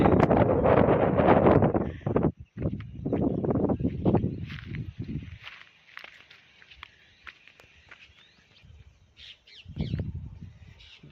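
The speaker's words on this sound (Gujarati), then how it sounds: "પવન પણ બહુ જોરદાર આવે છે" Strong wind buffets the microphone in heavy roaring gusts on Makhaniyo hill during the rainy season, then eases, leaving crows cawing and faint footsteps before another gust.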